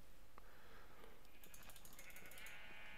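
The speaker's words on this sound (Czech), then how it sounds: "Ovce, ovce, ovce. Pojďte sem okamžitě." Minecraft sheep bleat in-game in short, thin cries scattered over a steady wash of game background noise, fairly faint, with no speech.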